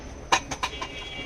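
Pet birds kept at a home give four quick clucking calls in a short, uneven sequence, close and fairly loud.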